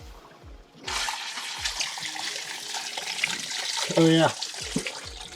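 On a sailboat, water gushes loudly from an unconnected hose, a sudden close splashing rush that continues steadily, with people talking briefly over it.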